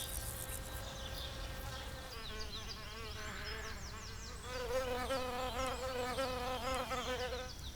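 Wild bees buzz steadily in a busy chorus, several wingbeat drones overlapping and rising and falling as insects fly close by, growing louder and denser in the second half, with no voices.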